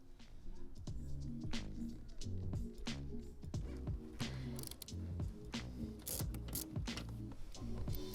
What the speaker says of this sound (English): Remove the rear bolts.